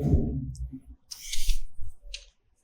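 A few quick, crisp clicks of a computer keyboard key being pressed come right after a brief bit of speech, close and clear against near silence.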